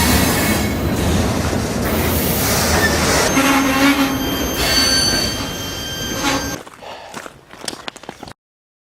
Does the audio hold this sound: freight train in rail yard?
yes